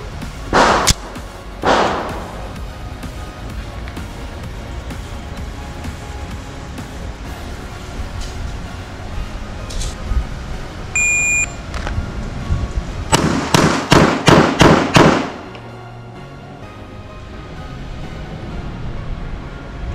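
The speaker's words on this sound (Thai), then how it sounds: "เดี๋ยวผมจะทำการยิงบิลดริลนะครับที่ระยะประมาณ7หลานะครับด้วยกระสุนจำนวน6นัดนะครับ" An STI Apeiro pistol in .45 ACP fires at about seven yards: a couple of separate shots, then a rapid six-round string of sharp, loud cracks in quick succession, outdoors with no talking.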